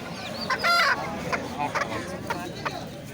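Native hens with chicks give short clucks and chirps at close range in a busy poultry market, with people talking in the background.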